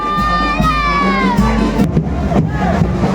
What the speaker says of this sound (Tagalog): hiyawan ng mga tao